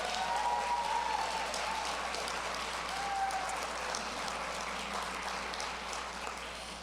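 Sustained audience applause honoring past board president Nancy Mays at a March 2025 gathering, a steady even wash of clapping from a seated crowd, moderately distant, with faint incidental voices underneath and no clear speech.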